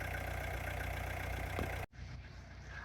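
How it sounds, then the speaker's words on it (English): Old French diesel engine of a Peugeot 106 clattering steadily at idle from close by inside the car on a road trip through Amsterdam, cutting out abruptly near the end before a quieter rumble resumes. "Ah, the clattery old French diesel engine."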